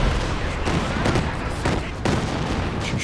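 A Katyusha rocket barrage in the video game Company of Heroes 2 roars in continuous heavy booms and rumbling explosions, loud and dense throughout, with no clear gaps.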